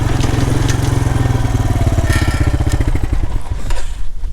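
Small two-stroke engine of a mean green weed eating machine running near a cornfield, a loud, steady rapid pulsing throughout that roughens and sputters toward the end, with a few sharp pops like backfires.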